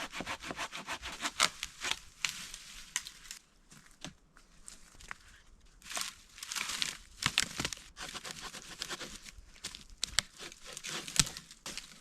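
A hand saw cuts through a downed tree for firewood in the Boundary Waters wilderness, making steady back-and-forth rasping strokes close by with brief pauses, and no talking.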